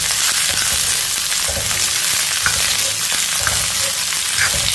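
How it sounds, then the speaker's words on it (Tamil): Pirandai (veld grape) sautéing in a spoonful of oil in a kadai, a loud constant sizzle broken by scraping stir strokes, heard up close with no talking. "1 ஸ்பூன் எண்ணெய், அதிலே நல்லா வதக்கிடணும்."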